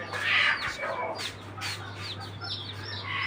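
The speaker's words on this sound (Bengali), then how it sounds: "আর এইগুলো হচ্ছে ব্রয়লারের বাচ্চা।" Broiler and silkie chicken chicks cheep and chirp in a rapid, high-pitched cluster, fairly close, over a steady low mains hum.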